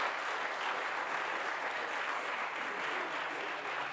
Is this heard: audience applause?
yes